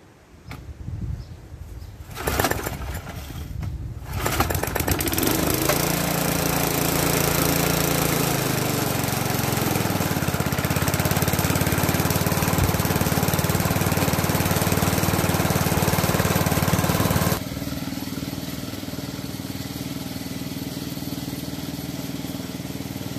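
An old self-propelled Hann Eclipse lawn mower sputters to life after a few pulls, then settles into a loud, steady engine drone that drops to a lower idle near the end.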